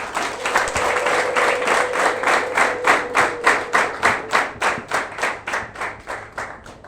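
A church congregation applauds newly baptised secondary school students, loud clapping at first that settles into a steady rhythmic beat of unison claps, slowing slightly toward the end.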